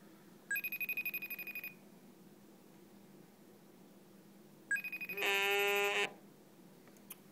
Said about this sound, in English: now we're going to do a FaceTime call